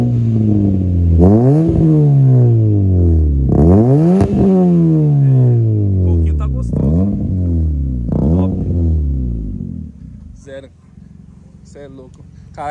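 A Hyundai i30's loud exhaust revs repeatedly in sharp bursts, each climbing and falling, then drops to a low idle with a few crackles near the end.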